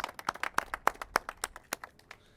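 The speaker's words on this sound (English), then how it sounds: "Let's give them a round of applause." A small group at a Louisville civic event claps in scattered, uneven beats that fade out after a couple of seconds.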